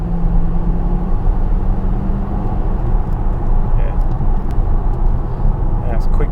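A remapped Audi Q7 with a 4.2 TDI V8 diesel engine accelerates hard, producing a loud, continuous, broadband engine roar that holds steady across the whole stretch.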